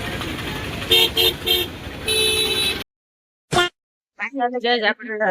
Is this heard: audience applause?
no